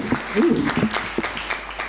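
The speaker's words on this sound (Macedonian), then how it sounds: "Да ги поздравиме со еден аплауз и многу им благодариме." An audience applauds at a memorial room opening and book promotion, a short, close burst of clapping that carries on steadily for a couple of seconds.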